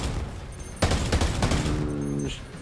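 Enemy gunfire in Ghost Recon Breakpoint: a sudden burst of rapid automatic shots, then a second volley, sharp and fairly close over faint background ambience, with no talking.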